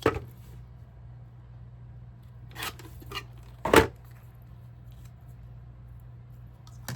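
Trimming about a quarter inch off with a cutting tool, a few brief sharp snips at the start, near 2.6 s and a louder one near 3.8 s in a quiet room.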